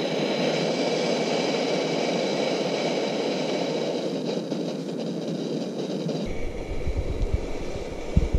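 A petrol camping stove burner roars with a steady, dense hiss at close range during a cycling trip through snowy Altai country; near the end the tone shifts and a lower rumbling flutter joins in.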